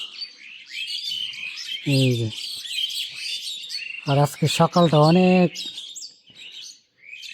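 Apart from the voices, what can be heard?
common myna birds chattering in the morning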